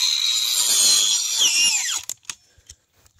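A 20-volt 4-1/2 inch brushless angle grinder cuts through a tree branch about 2.25 inches thick, whining loud and steady for two seconds, its pitch dropping as it spins down, followed by a few short knocks and clatters.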